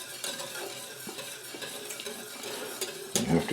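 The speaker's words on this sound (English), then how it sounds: "You have to keep stirring constantly here so that it doesn't scramble or curdle." A tempered egg custard mixture is stirred steadily into cream for homemade ice cream, a soft continuous scraping in a pot that ends in a brief louder clatter of the utensil.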